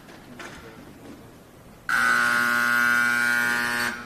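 A loud, steady electronic buzzer ends the second period of an ice hockey game, blaring for about two seconds after a stretch of quieter arena ambience, then cutting off.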